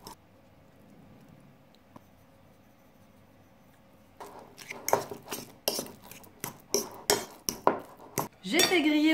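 Avocado mashed with a fork in a dish: a quiet start, then a run of repeated sharp metal-on-dish clinks and scrapes, close and rhythmic, ending in a louder rough scraping burst.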